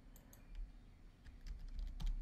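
Rapid keystrokes on a computer keyboard as a password is entered during a Joomla CMS installation, a quick irregular run of light clicks close to the microphone, with no speech.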